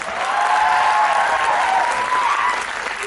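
An audience at a motivational speech for homoeopaths bursts into loud, sustained applause, with a thick continuous clatter of many hands and a faint crowd murmur underneath.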